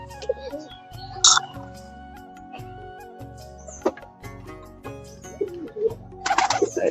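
Pet pigeons, including a red one and a green-coloured pair, coo in low repeated rolling calls at close range, with sharper bird chirps and a few clatters mixed in.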